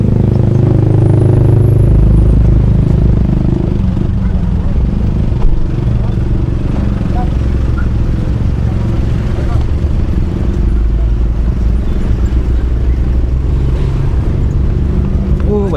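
Motorbikes and vehicles rumble nearby on a village road in Karawang, a low steady engine drone with passing surges and a brief high whine, voices talking over it.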